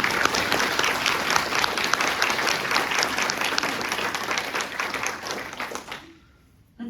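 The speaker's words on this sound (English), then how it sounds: "I'm going to suggest we give everyone, including Ken, a round of applause." A seated audience at a community meeting about a pool gives a sustained round of applause, dense and steady clapping that carries on for several seconds before stopping abruptly into near silence.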